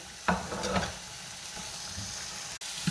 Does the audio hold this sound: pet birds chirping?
no